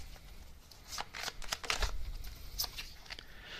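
Tarot message cards are shuffled by hand at close range, giving a soft riffling patter of papery flicks and slaps over a few seconds, quiet and steady, with no talk.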